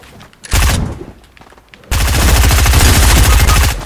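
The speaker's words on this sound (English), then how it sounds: "Are you getting shot at?" Rapid automatic gunfire in the video game Fortnite, a loud short burst followed by a longer sustained stream of shots, close and dominant with no talking.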